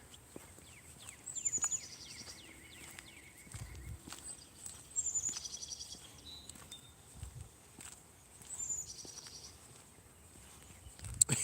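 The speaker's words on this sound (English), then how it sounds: "Well, there's the woodpeckers." Small woodpeckers call outdoors in short bursts of sharp, high, repeated notes and quick rattling taps, coming in three or four clusters over a quiet, faintly rumbling background, fairly close but not loud.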